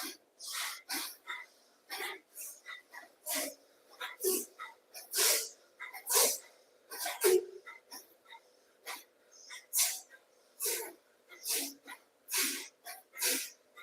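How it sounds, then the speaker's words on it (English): Rapid forceful breathing during a morning yoga exercise, sharp nasal exhalations in quick irregular bursts repeated over several seconds, close and fairly soft. "Repeat fast breathing again"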